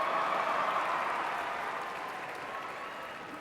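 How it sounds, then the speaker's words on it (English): A graduating high school class cheers and applauds after a valedictorian's prompt, a dense, even wash of clapping and crowd noise that slowly fades toward the end. "You guys can cheer."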